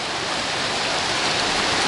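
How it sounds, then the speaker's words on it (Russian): A small mountain stream rushes steadily nearby in rough terrain near a waterfall, a continuous broad hiss of flowing water with no talk over it. "Еще один горный ручеек. Переходим его."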